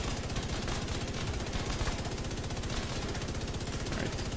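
Sustained automatic gunfire at an elite practice target 5 meters away in The Division 2, a loud unbroken rapid rattle of shots continuing steadily throughout with no talk.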